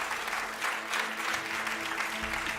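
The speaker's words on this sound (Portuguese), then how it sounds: "Vamos aplaudir o Cordeiro de Deus" Church congregation applauding during worship, dense steady clapping filling the room throughout with no pauses.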